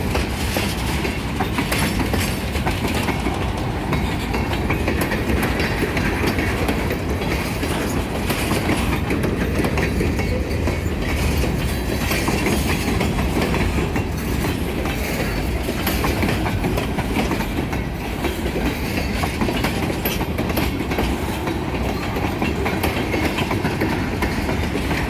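A Kiamichi Railroad freight train rolls past in Idabel, Oklahoma, with loud, continuous clattering of wheels and cars that holds steady throughout, no voices heard.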